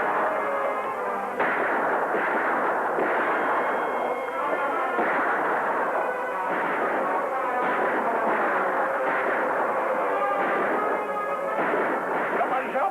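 Gunfire rings out in a western shootout with Indians attacking, a loud, dense and nearly unbroken barrage of shots and blasts lasting throughout, with possible shouting buried in the din.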